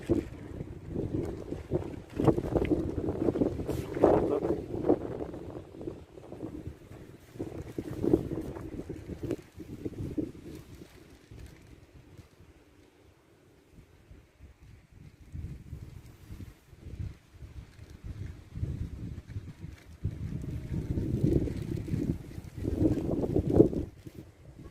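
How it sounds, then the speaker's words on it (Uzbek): Strong wind gusts across an open valley, buffeting the microphone in loud rumbling waves that ease to near quiet midway before surging again. "Shamol qattiq vodiyda."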